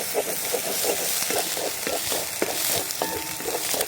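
Beef curry stirred in a pot off the heat, a rhythmic scraping and sloshing of a spoon through thick gravy with a gentle sizzle underneath, close and steady with regular strokes.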